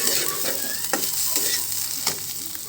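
Food frying in a pan while being stirred, a steady close sizzle broken by several scraping strokes of a spatula, with no talking.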